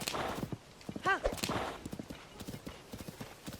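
A horse gallops in The Legend of Zelda: Tears of the Kingdom, its hooves clopping in a fast, rhythmic beat with a brief whinny partway through, all under a player talking.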